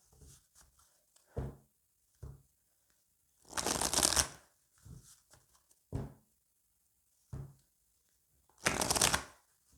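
Oracle cards being shuffled by hand in a series of brisk riffling bursts with soft taps between them, close and crisp, with no talk over them.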